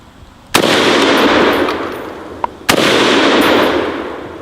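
Two loud, close .308 rifle shots from an IMI Galil fired at a 2-liter bottle, each a sharp crack followed by a long rolling echo, spaced about two seconds apart, with no voices.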